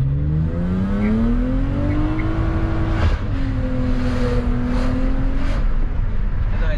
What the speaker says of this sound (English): And I think we'll have here a drag race with this Mercedes.